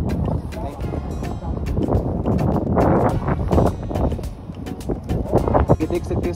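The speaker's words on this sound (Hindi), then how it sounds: "बहुत तेज हवाएं चल रही है, आपको आवाज आ रही होगी" Strong wind gusts through a snowy mountain valley near Saach Pass, buffeting the microphone with loud, uneven roaring while someone talks over it.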